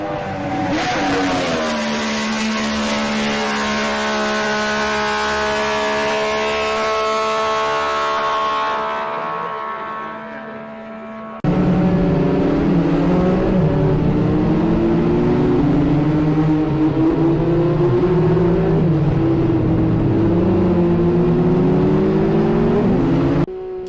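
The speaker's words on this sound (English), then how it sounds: "There's something intoxicating about the sound of an MV." An MV Agusta motorcycle engine revs loud and close, its steady high-pitched howl holding for about ten seconds before a cut to a second stretch of rising and falling revs, with no voices.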